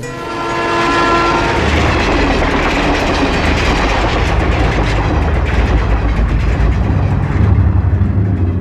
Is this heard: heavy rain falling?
no